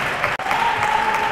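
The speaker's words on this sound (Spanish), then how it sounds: "Ovación cerrada para ambos." Crowd applause for two heavyweight boxers after a bout decided by unanimous decision, a dense, steady burst of clapping from the stands, loud throughout, with an announcer's voice faintly over it.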